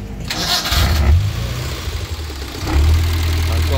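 A Suzuki Carry engine is cranked with the starter and catches, then settles into a low idle with a brief rev; the sound is close and fairly loud.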